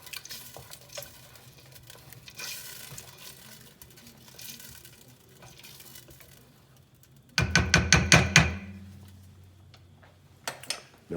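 Spoon scraping and stirring lamb ragu sauce in a pan over a medium flame, soft intermittent scraping, then a louder burst of rapid clattering strokes before it fades.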